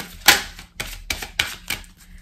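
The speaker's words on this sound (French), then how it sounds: "On va faire la coupe et après on prendra 6 cartes pour vous." A deck of tarot cards is cut with four or five crisp, close snapping clicks spaced about a third of a second apart, with no voices.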